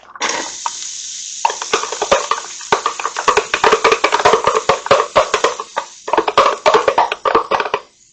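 Onion sizzles in oil inside a Ninja Foodi pressure cooker, a loud close crackle with dense bursts of spattering that fade out at the end.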